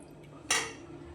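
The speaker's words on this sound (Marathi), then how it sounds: "मी भांडी घासून घेते." A single brief clatter of dishes, pots and pans being washed in a home kitchen, a short bright clank that quickly fades into quiet background.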